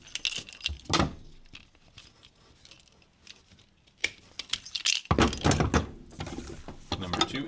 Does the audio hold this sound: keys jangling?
yes